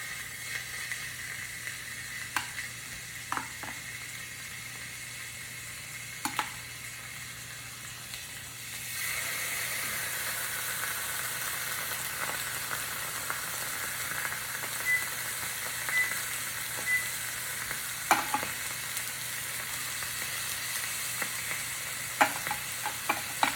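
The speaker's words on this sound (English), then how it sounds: "we're gonna sear the steaks off in about 1 minute on each side" Steaks sear in a hot pan with a steady, soft sizzle that grows louder and hissier partway through, punctuated by occasional light clicks and taps.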